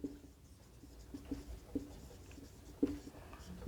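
Pen or marker writing out a geometry note on right angles during a class 9 maths lesson: faint, quiet scratchy strokes with a few soft taps spread across the stretch, alone without talk.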